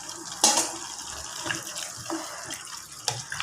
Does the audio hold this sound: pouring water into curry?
yes